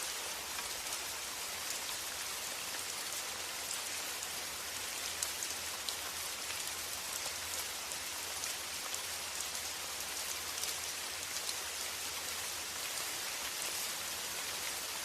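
Gentle rain falls steadily, a dense even patter of drops on surfaces with no variation in intensity, continuous and alone with no voices.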